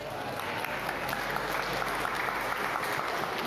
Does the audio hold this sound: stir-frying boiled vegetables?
no